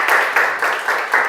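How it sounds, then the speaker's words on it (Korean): Brief rhythmic group clapping at a church gathering, about five loud, evenly spaced bursts in quick succession, close and clear. "한번 박수로."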